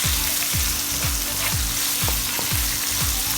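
Spiced chicken with curry powder sizzles and fries in a pan while being stirred, the steady sizzle broken by regular scraping strokes about twice a second.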